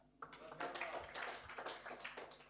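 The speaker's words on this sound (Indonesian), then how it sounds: "Tepuk tangan." Applause from a church congregation at a Sunday worship service after a baptism is celebrated, a dense patter of clapping that starts suddenly and stays steady for a couple of seconds at moderate loudness.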